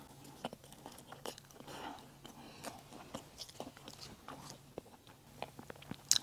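Someone bites and chews soft bread filled with mashed potato and ham, close up and quiet, with small crunchy bites and soft mouth sounds in a sparse rhythm.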